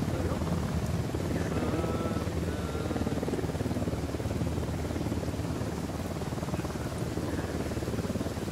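Helicopter flying in Ghost Recon Wildlands, a constant dense rotor and engine roar that holds steady and loud throughout.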